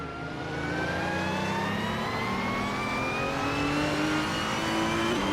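A 2021 Chevrolet Camaro engine in a racing video game, holding a loud, steady high rev with gradually rising pitch, close and continuous.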